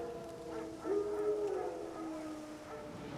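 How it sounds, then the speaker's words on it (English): Wild dogs in The Witcher 3 let out one sustained, wavering howl at middle distance, rising over a steady ambient bed of outdoor game sound. "Wild dogs."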